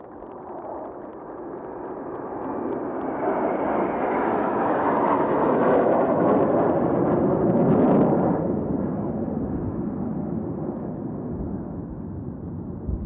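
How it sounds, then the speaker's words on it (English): Three JF-17 Thunder fighter jets flying past in formation at a military ceremony, a broad distant roar that builds steadily, peaks in the middle and slowly fades, with no talk over it. "Following closely behind will be the three ship of Pride of Pakistan, the JF-17 Thunders."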